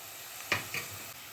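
Asafoetida is added to onions frying in an Indian tempering for papaya sabzi, giving a steady soft sizzle with a couple of brief utensil clinks near the start.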